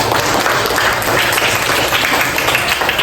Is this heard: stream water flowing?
no